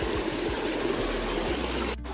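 A large river rushes over rocks nearby, a steady, dense wash of flowing water with no voices.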